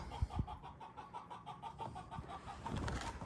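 Chickens clucking in a backyard chicken coop at a house, a soft, steady run of repeated clucks heard from some distance, faint and without talk.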